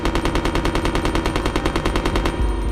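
Rapid automatic gunfire from the Resident Evil video game, a loud, dense stream of evenly spaced shots that keeps firing steadily for over two seconds before breaking off.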